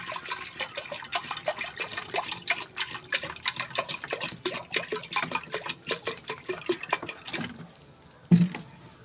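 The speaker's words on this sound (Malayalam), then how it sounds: "അതിലോട്ട് ഞാൻ ഈ അക്കാനി ഒഴിക്കുന്നു" Palm sap pours into a hot pan and sizzles with a rapid crackling hiss, close by, then stops; a single knock follows near the end.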